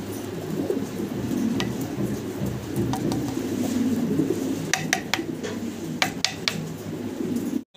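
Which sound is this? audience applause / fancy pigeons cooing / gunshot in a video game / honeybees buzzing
fancy pigeons cooing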